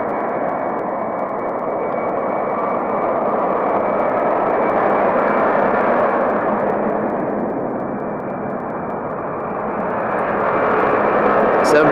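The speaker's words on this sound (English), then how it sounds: "Seven 400 taking off right now." A Boeing 747-400 takes off at Anchorage Airport in Alaska, its broad jet roar loud and steady throughout, swelling and easing slightly before building again near the end.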